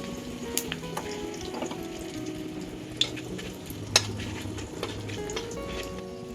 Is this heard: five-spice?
yes